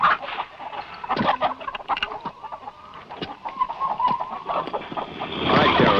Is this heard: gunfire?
no